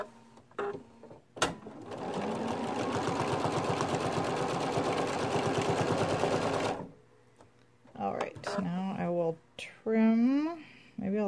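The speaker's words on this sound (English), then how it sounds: "I'm starting with just a couple of really small stitches when I start each new section." A sewing machine stitches appliqué onto a greeting card, running steadily for about five seconds, loud and close, after a short tap; speech follows once it stops.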